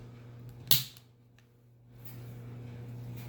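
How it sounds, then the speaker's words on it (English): A Beretta APX Centurion pistol has its magazine dropped in, making one sharp, close metallic click that fades fast into quiet room hum, no voice present. "Now, let's drop the mag into the Beretta."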